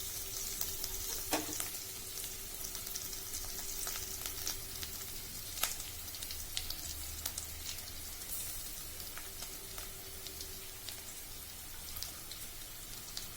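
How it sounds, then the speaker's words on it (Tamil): Onions sautéing in a pan while making coconut rice, a steady close sizzle and crackle with occasional scraping stirs and small clinks, no voices. "இன்னும் கொஞ்சம் வெங்காயம் வதங்கினா போதும்"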